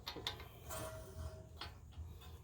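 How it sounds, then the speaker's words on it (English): Wheel studs pulled into a hub with a ratchet, heard as close, quiet mechanical clicks and short ratcheting bursts spaced irregularly over a low background hum. "We are going to be pulling these studs in."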